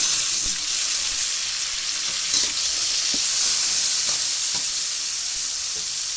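Garlic fries in a pan of hot oil, a loud, steady sizzle close up with occasional soft stirring knocks underneath and no voices.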